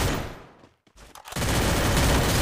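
Gunfire in the mobile battle-royale game Garena Free Fire: a short burst, a brief near-silent gap, then a loud, dense, sustained volley of shots with no one speaking.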